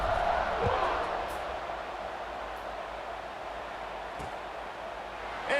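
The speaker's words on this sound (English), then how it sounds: "this crowd is buzzing after that last score" A stadium crowd in a college football video game, Purdue against Notre Dame, makes a steady, dense roaring murmur that stays even throughout, beneath a commentator's voice.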